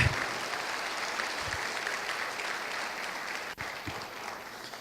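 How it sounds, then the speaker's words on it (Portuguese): A church congregation applauds during a sermon, a steady wash of many hands clapping throughout with a few louder thumps mixed in. "Pode aplaudir. Pode aplaudir."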